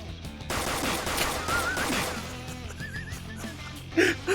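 Gunfire in the video game Persona 5 Royal, a dense burst of shots with a chaotic, loud crash, followed by music and a gasp-like game voice at the end.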